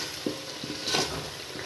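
Spices for Punjabi-style kadhi frying in a pan, a steady low sizzle with a few soft stirring scrapes and a brief brighter crackle near the middle, close and moderately loud, no voices.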